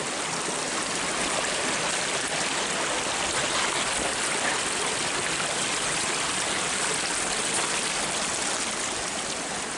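Steady rushing water from a flowing stream, a dense continuous wash of sound that stays loud and even throughout, with no voices.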